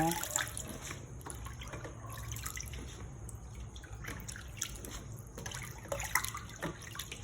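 Water running and splashing in a small sink while mulberries are rinsed, a steady close trickle with scattered drips and light clatter, no speech.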